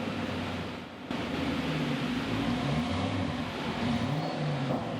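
Car on a dynamometer pulling away in first gear with the clutch let out, a steady close engine drone and rumble whose pitch rises and falls, running throughout with a brief dip near the start, no talk.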